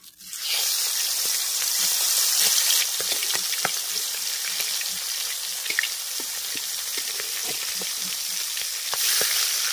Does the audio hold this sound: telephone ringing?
no